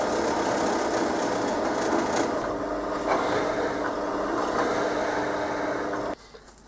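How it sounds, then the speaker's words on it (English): Steel being tapped for threads with a hand tap in a shaft collar, a steady continuous rasping and scraping that stays loud and close for about six seconds, then stops abruptly. "Alright, tapping steel"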